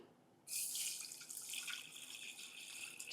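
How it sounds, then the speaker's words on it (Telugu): Water pours into a pot holding pepper with a sudden steady splashing rush that starts after a short quiet moment and keeps running close by, with no speech. "ఇందులో మనం వాటర్ వేసుకుందాం"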